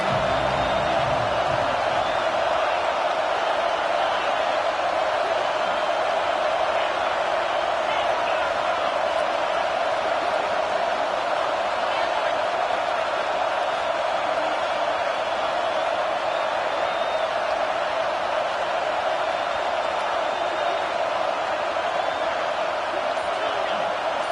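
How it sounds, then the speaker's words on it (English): A loud, steady roar from a packed football stadium crowd in Alabama, a continuous wall of noise that holds without a break throughout. "with this place rocking, the crowd forces a false start"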